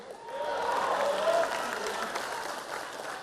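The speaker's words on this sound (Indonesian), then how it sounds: "Tepuk tangan dong untuk Mas Ganjar dan Prof Mahfud, luar biasa" Audience applause at an Indonesian campaign rally for presidential candidate Ganjar and running mate Mahfud: a sustained crowd clapping that swells early and holds steady, with faint voices and cheers mixed into the dense patter.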